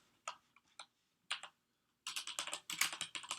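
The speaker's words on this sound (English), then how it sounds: "Now we're typing a lot of sample data here." Typing sample data on a computer keyboard: a few scattered, separate key taps at first, then a rapid, steady run of close, crisp clicks with no voices.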